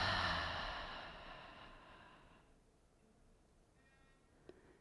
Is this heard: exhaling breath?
yes